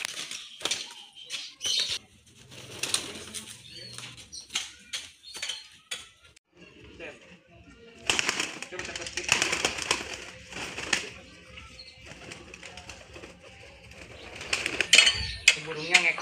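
Pigeons flap their wings in bursts of fluttering and clatter close by, with soft cooing and intermittent mechanical rattling amid the commotion.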